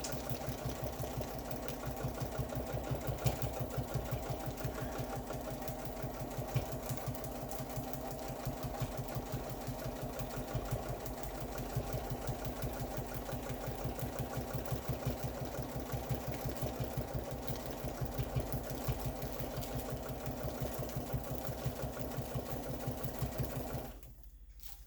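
A domestic sewing machine runs at a fast, even stitch rate while quilting a pantograph pattern lengthwise down a quilt, a steady mechanical whir and rapid rhythmic ticking that holds for the whole stretch and stops abruptly at the end.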